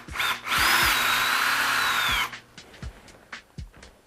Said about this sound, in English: It's pretty easy to drill through. Just make sure that you drill it nice and centered.